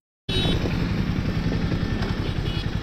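A Harley-Davidson X440 motorcycle, 2025 model, starts up close by, its engine settling into a loud, steady, throbbing idle.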